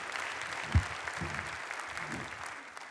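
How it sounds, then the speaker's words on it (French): Audience applause at an awards evening for employment-booster projects, a steady, fairly soft patter of many hands with a few low thumps, heard alone without talk. "Bravo, je crois qu'on peut les applaudir."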